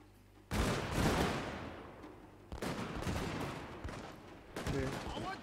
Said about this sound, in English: form up, rank fire, new fire, and rapid volley